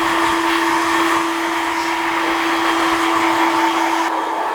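A hair dryer on high speed and high heat dries textured styling product into a cropped fade haircut, producing a loud, steady whir that runs on its own throughout.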